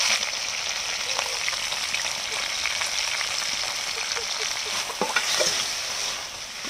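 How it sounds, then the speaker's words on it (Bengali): Prawns fry in hot oil in a wok, a continuous crackling sizzle at close range with a few sharp pops and stirring clicks toward the end. "চিংড়ি মাছগুলো ভেজে নিচ্ছি একটু।"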